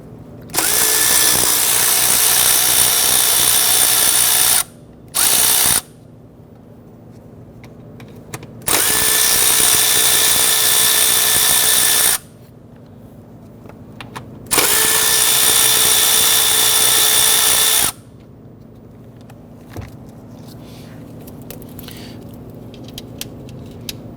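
A power tool zips out 10mm intake manifold bolts on a Kia Sorento, four loud, steady whirring bursts of several seconds each with short gaps, close up, followed by quiet clinks.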